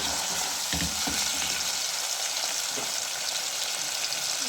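Tomatoes and two green chilies fry with ginger and garlic in a pan, giving a steady close sizzle with a few scraping stirs near the start and no talking.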